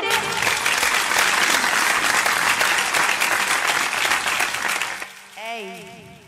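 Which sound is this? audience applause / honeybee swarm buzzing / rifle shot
audience applause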